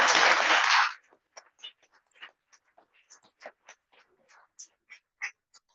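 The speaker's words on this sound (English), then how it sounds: "Let's get a big round of applause for the candidates" An audience at a civic association candidates night claps loudly for the candidates, and the applause breaks off after about a second into a few scattered, faint claps and small room noises.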